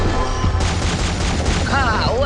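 Gunfire from the mobile shooter Shadowgun Legends, a dense burst of shots over steady game background sound, followed by a rising electronic whine.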